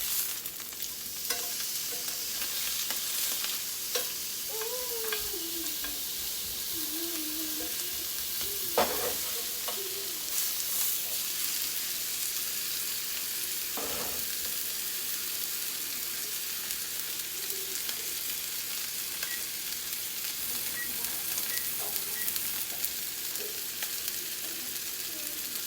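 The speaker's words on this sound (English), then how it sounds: "All right, we're going to flip our steaks." Steaks in a pan sizzle faintly and steadily after being flipped, a quiet constant crackle with a few scattered clinks and bumps, no talking over it.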